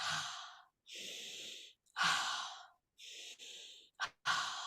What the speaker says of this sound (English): what you hear me doing is called circular breathing